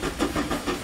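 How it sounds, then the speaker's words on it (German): Steam locomotive in the railway-building game Transport Fever 2, giving a steady hissing, chuffing rumble with soft repeating pulses at a station, close and continuous with no talk over it. "Oh, höre ich da? Oh, sehe ich da? Eine Dampflok?"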